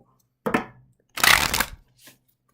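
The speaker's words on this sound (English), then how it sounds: "And here we go, one last shuffle." Tarot cards being shuffled close up: two crisp riffling bursts, the second longer and louder, followed by a faint brief card flick, with no voices.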